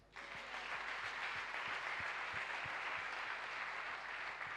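A church congregation applauds and claps steadily at a moderate distance, a sustained wash of hands with faint rhythmic thumps beneath it.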